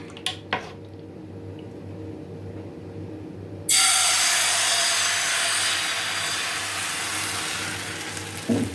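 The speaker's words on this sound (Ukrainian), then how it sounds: "І обсмажую млинець з обох сторін." After a few light clinks in near silence, a loud hissing sizzle of a kefir pancake frying in an oiled pan suddenly starts and continues steadily, close by.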